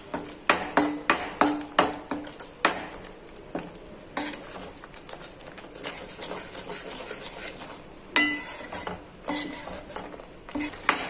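Masala being stirred into kaju gathiya in a pan: a spoon scrapes and clanks against the metal in quick bursts over a soft, steady sizzle, close up and without speech.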